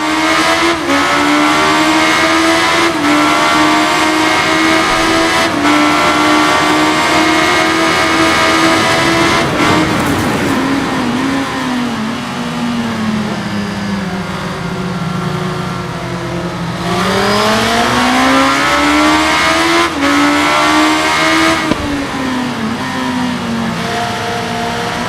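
A Honda Super Blackbird sport-touring motorcycle is ridden in the RIDE racing video game, its loud engine droning continuously for the full stretch, pitch climbing through revs and dipping on gear shifts and deceleration, with no talk.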